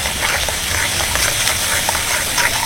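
A spice paste of tomato, chilli, ginger and cumin hits hot oil for a vegetarian dish, giving a steady, close sizzle with crackling pops and faint stirring throughout.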